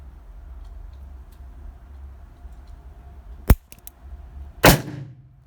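Two sharp gunshots from a handgun firing .38 S&W rounds, comparing smokeless and black powder loads; a crisp shot is followed by a louder, longer blast with a trailing rumble, over faint background noise.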